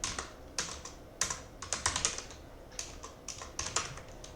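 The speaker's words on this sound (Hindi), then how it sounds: "कमेंट में कुछ भी आप टाइप कर दो" Quick, irregular keystrokes on a computer keyboard as a comment is typed into an MS Excel spreadsheet, close and fairly quiet with brief pauses between bursts.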